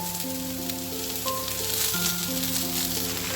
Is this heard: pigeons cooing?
no